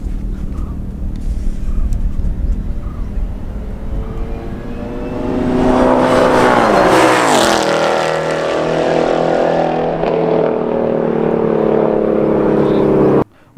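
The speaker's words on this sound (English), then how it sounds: "Mustang 720 bhp supercharge वाला है" A 720 bhp supercharged Ford Mustang revs and roars as it accelerates hard in a drag race, the pitch climbing through gear changes, loud and close, then cutting off abruptly at the end.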